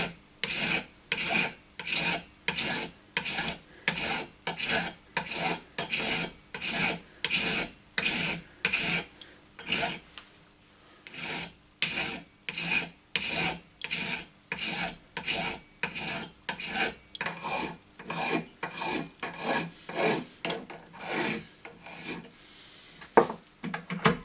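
Hand file worked over a small metal engine part held in a vise, producing steady rhythmic rasping strokes, about one per second, close and clear with brief pauses between runs.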